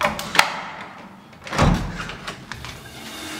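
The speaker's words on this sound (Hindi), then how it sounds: "खोलोगी या फिर मैं खोलूं दरवाजा?" A house door opens with a knock-like click and a rattle, followed by a louder thud and a scrape close by, with no voices.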